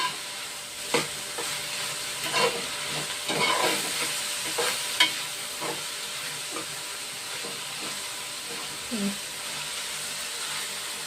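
Onion pieces and curry leaves fry in a pan with a soft, steady sizzle and a few stirring scrapes and knocks. A voice speaks faintly underneath.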